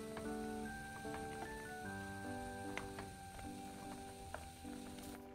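Vegemil soy milk heats in a pan, giving a quiet, steady bubbling sizzle with small pops, close by, under a faint tonal hum and without any talking.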